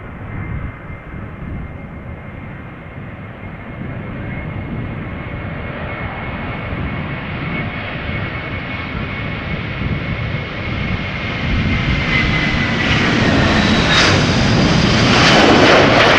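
A Chinese airline's three-engine jet at Schiphol Airport roars steadily throughout, a broad loud engine rush with a faint whine that swells and grows closer and louder toward the end.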